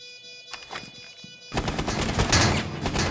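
Rapid pistol shots fired from the hip in Rainbow Six Siege ring out after a quieter start with faint game noise, a dense loud burst of gunfire filling the last half of the moment.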